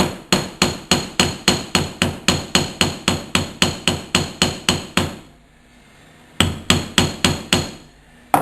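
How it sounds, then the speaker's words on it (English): Sharp, ringing strikes of a slightly arched metal hammer flattening silver wire in a fast steady rhythm, around twenty blows, a short pause, then several more, close and loud. "this hammer is a special hammer"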